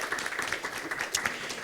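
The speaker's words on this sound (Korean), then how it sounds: "환영과 격려의 박수를 좀 부탁을 드리겠습니다." Applause from a conference audience welcoming a panel at an academic session on climate crisis and international law, steady dense clapping filling the whole short stretch with no speech over it.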